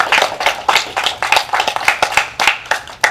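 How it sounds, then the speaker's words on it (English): Children at an elementary school club meeting clap together in a brisk burst of sharp, irregular hand claps, close and lively for about three seconds. "So give yourself a round of applause."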